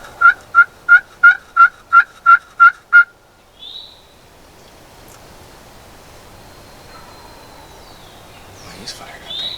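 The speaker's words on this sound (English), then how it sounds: "I doubt it with 2 gobbles going on." Wild turkey gobbling on an overcast morning, a rapid burst of about nine loud, close gobbles followed by a fainter distant call and quiet woodland ambience.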